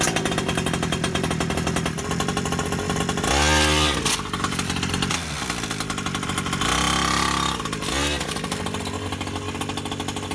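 A Primal MT Raminator 1/5 scale RC truck's gas engine runs loud and close on its first start, a buzzing two-stroke drone with two throttle surges that rise and fall in pitch.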